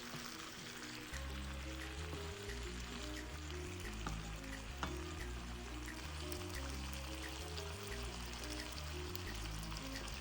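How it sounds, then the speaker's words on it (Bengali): Potatoes and flat beans fry with spices in a pan and are stirred now and then, giving a soft, continuous sizzle under steady background music. "আলু এবং সিম সেটা আমি দিয়ে ভালো করে মশলার সাথে মাখিয়ে নেব নেড়ে চেড়ে"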